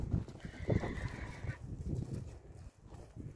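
A young horse, a foal for sale near Bishkek, neighs in a single close, shrill whinny against a quiet outdoor background with faint rustling and a few soft thuds.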